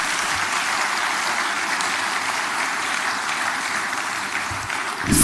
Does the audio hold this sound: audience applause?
yes